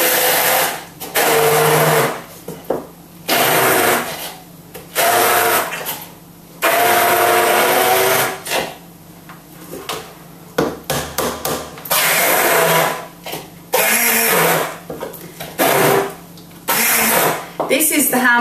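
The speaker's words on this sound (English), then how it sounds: "My hand blender is a Kenwood Tri-Blade 700 watts" A Kenwood Tri-Blade 700 watt hand blender whirs loudly as it blends mango and cardamom porridge, running in repeated bursts of a few seconds each with short pauses between them.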